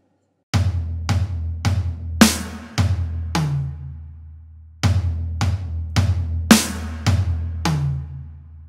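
Toms and snare on a drum kit play a repeating tom-snare-tom groove with cymbal crashes, two loud phrases of evenly spaced hits ringing close up, with no talking.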